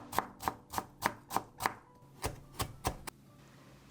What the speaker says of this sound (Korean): 가늘게 자른 후 채 썰어 다져주세요.